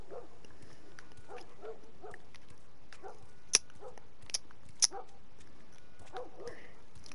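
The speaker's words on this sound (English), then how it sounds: "Oh, sounds like a dog just died." A dog whimpers and yips faintly and intermittently in The Last of Us Remastered, with a few sharp clicks breaking in between the soft cries.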